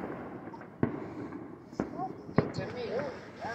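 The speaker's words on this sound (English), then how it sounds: "The mama can see the fireworks." Fourth of July fireworks burst at a distance near a home garage, three sharp booms spaced about a second apart over a low background murmur, with faint voices and whistling sounds.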